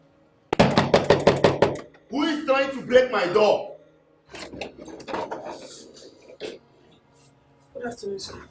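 Knocking on a door, a quick run of about eight loud, close raps in a steady rhythm, followed by voices talking.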